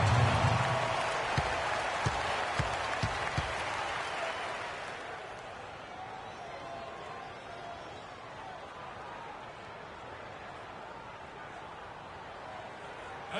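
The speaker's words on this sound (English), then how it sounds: "A big round of applause for your Spirit Dance Team." Arena crowd at an NBA basketball game between Brooklyn and the LA Clippers applauds at a break in play, steady cheering and clapping for several seconds that fades to a low murmur, with a few thumps early on.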